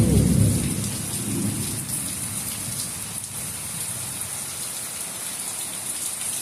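Steady, heavy rain pours down in a dense continuous hiss, with a low rumble near the start.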